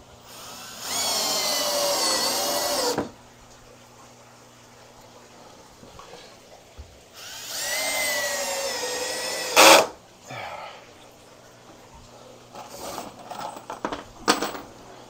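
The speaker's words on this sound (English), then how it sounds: "So currently I'm just putting a few of these screws down" A power drill drives screws into a plywood wall of a 1200-gallon saltwater aquarium build, two sustained whirring bursts a few seconds apart, followed by sharper clunks and short tool noises nearby.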